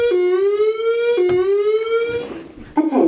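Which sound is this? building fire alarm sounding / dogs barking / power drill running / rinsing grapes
building fire alarm sounding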